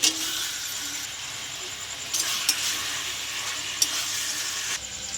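Chicken sizzling in a hot pan with tomato sauce and chili sauce as it is stirred, a steady broad hiss with a few sharp scraping accents, close and moderately loud with no talking.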